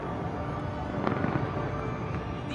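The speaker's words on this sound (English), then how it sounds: "Beautiful fireworks." New Year fireworks bursting over the Burj Khalifa in Dubai, a dense continuous rumble of crackling explosions mixed with crowd noise, loud and sustained throughout.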